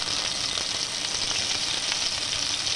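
Tomatoes and chillies fry in oil in a pan with a steady, even sizzle that goes on without a break, close and clear, with no voices.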